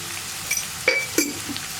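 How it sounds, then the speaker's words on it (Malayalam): Chopped onion with curry leaves and a pinch of salt sautéing in a pan for jackfruit stir-fry, a soft sizzle broken by a few clinks of a spoon stirring against the pan. "ഇനി ഈ ഉള്ളി ഒന്ന് നന്നായിട്ട് വഴറ്റിയെടുക്കുക."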